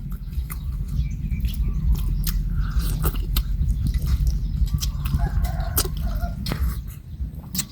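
Someone eats catfish boiled in fermented fish sauce, with close, repeated wet chewing and sharp little bites and clicks in an uneven rhythm.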